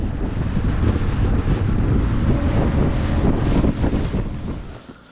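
Strong wind on a cold, damp remote northern Ontario lake buffets the microphone in a loud, continuous roar with gusty surges, and it fades out near the end.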